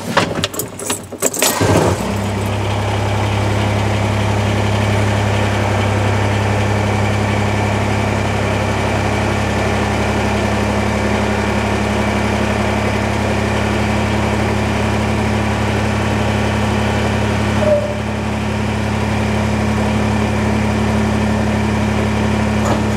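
A Kubota BX23S compact tractor engine runs at a steady idle-like drone, with a brief jangle of keys and startup clatter at the very start, loud and close throughout.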